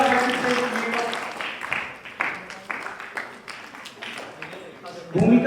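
An audience claps and cheers at a live drama festival performance, with steady applause that slowly thins out before a brief voice at the end.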